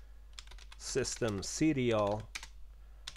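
Keys clatter on a computer keyboard as a terminal command is entered on a Debian 12 Linux system, scattered close taps mixed in with someone speaking over them.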